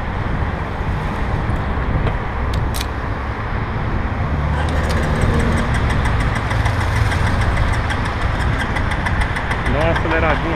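A motorcycle engine idles steadily and close by with a continuous throbbing rumble throughout, while people talk over it.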